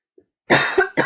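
A single person's sharp, loud cough close to the microphone, coming in two quick bursts after a brief faint throat sound, with no talking around it.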